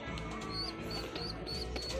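A pet pigeon in a breeding loft gives soft, repeated notes, five brief calls evenly spaced over about two seconds, faint above a low steady background hum.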